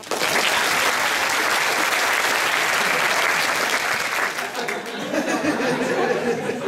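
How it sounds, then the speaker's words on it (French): An audience applauds for Willy Bianda, a debate opponent, at a French pleading contest; dense, steady clapping fills the room, easing slightly toward the end with some chatter and light laughter beneath. "Quelques applaudissements pour Willy."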